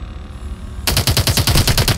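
Rapid automatic weapon fire from a mech suit in Call of Duty: Advanced Warfare bursts in loud and near after a quiet start, a fast, steady rattle that carries on to the end.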